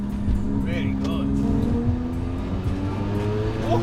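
A Mazda RX-7 rotary engine pulls hard under turbo boost, a loud steady drone rising gradually in pitch over several seconds, with faint voices occasionally over it.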